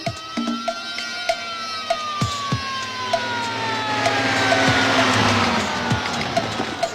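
A wailing fire engine siren sweeps up and down, loud and nearby, with a rhythmic horn-like blip repeating about every second beneath it.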